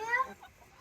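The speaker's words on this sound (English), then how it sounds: "A few chickens over here hanging out." Free-range farm chickens give a brief, soft cluck, heard up close in a short burst that fades quickly into quiet outdoor background.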